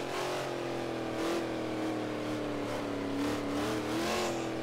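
A car engine in Forza Horizon 3 holds a steady, droning hum and then swells gently as the driver picks up speed, with the tone rising slightly and no talk over it.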